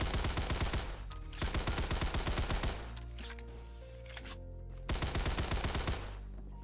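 SMG fire in Phantom Forces: three loud, close bursts of rapid automatic shots, each about a second long, separated by short pauses filled with ringing mechanical clatter.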